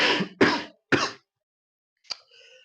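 Cough: a person coughs three times in quick harsh bursts, close and loud, then clears the throat once more after a short pause.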